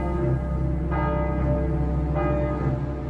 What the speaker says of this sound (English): the bells of this church, Saint-Germain-l'Auxerrois, rang out